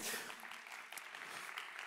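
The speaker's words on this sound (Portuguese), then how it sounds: "palmas para Ronaldo" Faint, distant applause from a crowd, a steady wash of clapping without pauses, recorded at low level.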